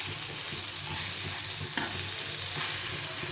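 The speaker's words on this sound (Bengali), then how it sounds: "এখন আর পাশের জন্য একটু বাটার দিয়ে এগুলো ভেজে নিতে হবে প্রত্যেকটা।" Tiffin snacks fry in butter in a pan over lowered heat. A constant close sizzle and hiss carries light stirring and scraping touches, with no one speaking.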